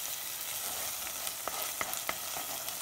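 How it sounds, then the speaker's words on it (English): Ketchup being stirred into garlic and onion in a hot pan, a continuous quiet sizzle with a handful of light spoon taps in the second half. "Stir that in there with your garlic and your onion."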